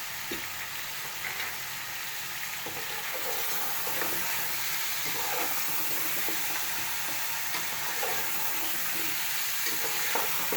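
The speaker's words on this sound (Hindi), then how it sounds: "ये भी हम गोश्त के साथ फ्राई करेंगे ताकि अच्छी तरीके से फ्राई हो जाए।" Beef for nihari fries with two spoons of salt in a pot, giving a steady, fairly loud sizzle with occasional stirring scrapes throughout, and no talking.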